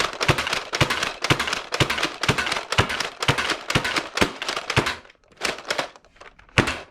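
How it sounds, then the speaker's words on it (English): Dart Zone Max Tomcat foam dart blaster slam-fired in a rapid string of about a dozen loud, sharp thunks, evenly spaced, then a short pause and a few more shots. "Let's try some slam fire now."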